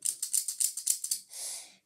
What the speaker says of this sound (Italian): adesso faccio vedere un foglio provando queste forbici